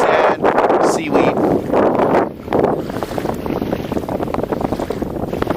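Wind gusts across a sandy shoreline where someone is fishing, a loud rushing roar that rises and falls in buffeting waves against the microphone, with speech heard over it.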